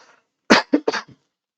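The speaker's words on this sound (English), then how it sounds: "I'm gonna cough" A person coughs several times in a quick close burst of three or four sharp coughs, followed by silence.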